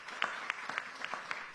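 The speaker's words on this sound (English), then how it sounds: "Please give them a big round of applause." An audience at a Senate education committee hearing gives a short round of applause, a brief patter of scattered claps from a modest crowd in a room.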